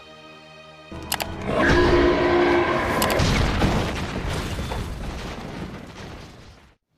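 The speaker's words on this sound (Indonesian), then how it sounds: "dengan susah payah Yoon Geom berhasil meledakkan tempat itu dan juga membunuh makhluk tersebut." An explosion in the 2018 film Monstrum erupts after a brief tonal cue into a loud, broad blast whose rumbling roar holds for several seconds before cutting off abruptly.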